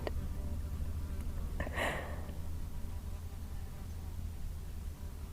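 Bees buzzing in a forest: one brief buzz swells and passes close by over a steady, hissy outdoor background.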